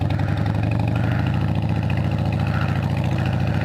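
A Harley motorcycle engine roars steadily and loudly up close as it accelerates away, a constant mechanical drone with no voices.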